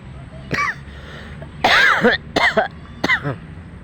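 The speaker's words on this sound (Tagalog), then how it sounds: "Ako na lang umuubo." Several harsh, close coughs in quick bursts, one strong fit in the middle, with brief pauses between.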